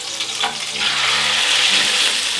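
Food sears in a very hot pan while being turned over, a loud, dense, hissing sizzle that swells after a brief utensil scrape and holds steady, close up with no voices.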